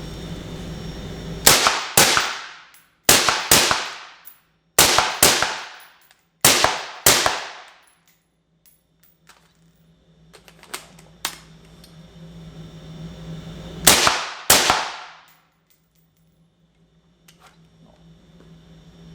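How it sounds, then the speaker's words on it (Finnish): Suppressed rifle shots from an SKtactical Ensio Firearms KAR-21: four evenly spaced single shots, a pause, then two more, each a sharp near crack with a short ringing tail. "Erittäin miellyttävää ampua myöskin vaimentimen kanssa."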